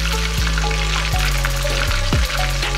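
Chicken pieces frying in hot oil for teriyaki chicken, a loud, constant close sizzle with a few sharp crackles and stirring clinks along the way.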